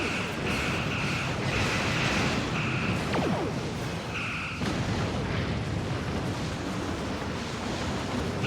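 A loud, rumbling explosion erupts in the space combat game Star Trek Online as an enemy Borg ship is destroyed, a dense, sustained roar with a faint whoosh running through it and no voices.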